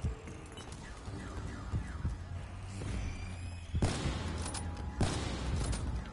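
Shotgun fire in Black Ops 3 Zombies, a few heavy blasts, the two loudest near the end, over a busy background of gunfire and game noise, with no talk.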